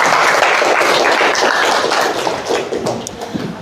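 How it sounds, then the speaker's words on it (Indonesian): A classroom of students claps hands together in a dense, loud burst of applause that carries for a few seconds and then thins into scattered claps. "Tepuk tangan dulu kalau sudah bersih berarti."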